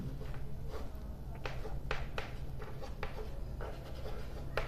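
Pen scratching steadily across paper as a Class 10 geometry proof on similar triangles is written out, brisk strokes and taps close by with no voices.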